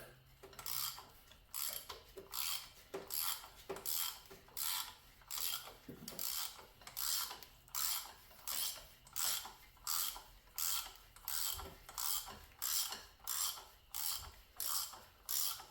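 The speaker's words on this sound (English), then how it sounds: "So let me get this pump bolt out." A wrench ratchets steadily on a tight, coolant-corroded water pump bolt of a 1995 Camaro, a long run of rhythmic, close clicking strokes repeating about once per second.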